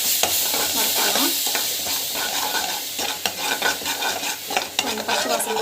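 Tomato puree sautéing in a pan makes a loud, busy sizzle. Spatula strokes scrape and clatter against the metal, growing more frequent toward the end.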